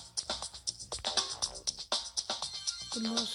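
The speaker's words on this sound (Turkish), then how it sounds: "Bildirim için kusura bakmayın." A phone notification chime rings out as a quick run of bright, rhythmic electronic pulses, fairly loud and steady, ending on a lower sustained tone.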